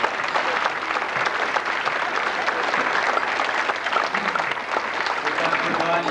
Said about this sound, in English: Have a nice round of applause.